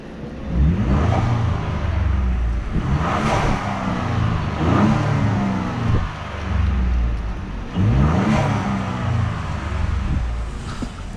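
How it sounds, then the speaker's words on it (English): Ford F-150 with a K&N cold air intake revving in repeated rising blips outdoors on a windy day, loud and close with wind noise underneath. "But here we go with some revs."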